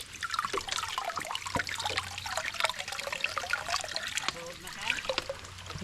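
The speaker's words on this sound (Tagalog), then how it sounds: "Ang lakas ng tubig oh." Strong flow of water gushing and trickling continuously, a busy splashing rush with drips, close and fairly loud, with people talking intermittently over it.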